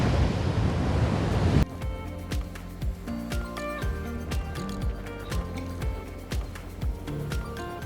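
Ocean surf on a Cancún beach, a strong roar of breaking waves buffeted by wind noise at first, then lapping water and scattered clicks and thumps as people walk along the sand.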